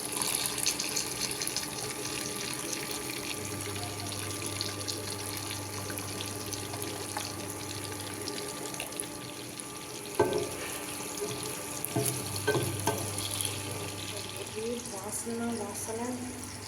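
Curry leaves and small onions sizzle in hot oil with mustard seeds for a fish curry, a steady hissing fry that runs throughout at moderate level, with a few louder crackles toward the end.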